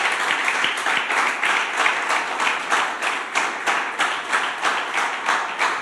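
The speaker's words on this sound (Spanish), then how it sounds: "¿Por qué no le das tu mejor aplauso al Señor?" A church congregation claps together in a steady, even rhythm, loud and sustained, each beat landing in unison across the room for about six seconds.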